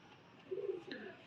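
A female pigeon of a prized breed gives a short, soft, throaty coo in two low pulses, fairly close, over faint background noise, with no one speaking.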